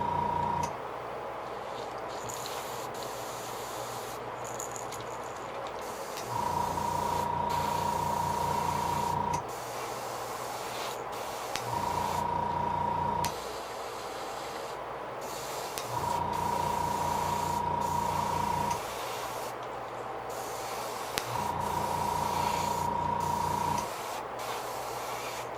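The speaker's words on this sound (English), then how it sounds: "Let's get our airbrush over here and get this party started." Airbrush spraying paint onto a custom fishing lure in purple and gold, heard as four sustained hissing bursts of a few seconds each, close and fairly loud, over a constant steady hum between bursts.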